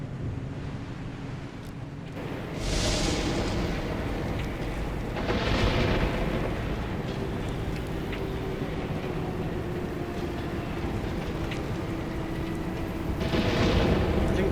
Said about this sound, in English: The storm is beginning to encroach.